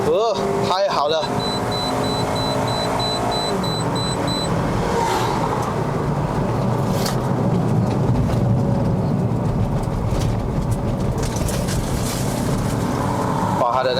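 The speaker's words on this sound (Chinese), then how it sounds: "把它的那个轮胎的胎噪跟隔音比较差了一点" Steady tyre and road roar from inside a 2011 Honda Civic FD 2.0S driving in Malaysia, a continuous broadband drone with some brief clatter at the start, under a voice heard in the cabin.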